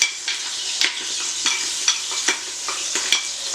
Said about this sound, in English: you're going to throw in the minced garlic and just let it brown slightly